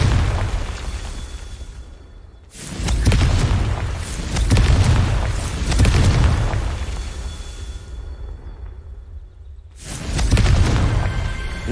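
Confringo blasting spells in Hogwarts Legacy, detonating as two big booming explosions with rumbling tails, followed by the start of a third blast near the end.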